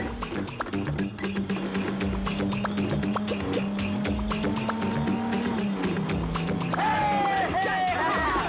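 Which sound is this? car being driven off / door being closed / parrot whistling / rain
car being driven off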